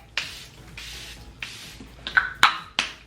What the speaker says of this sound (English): I'm just gonna set my face really quick with the Charlotte Tilbury setting spray.